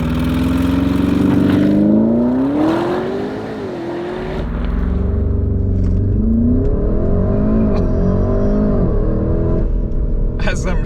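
A 640 hp Porsche Cayenne Turbo GT launches hard from standstill, its engine note climbing steeply and then surging again through the gears, loud and close, with a person talking over it.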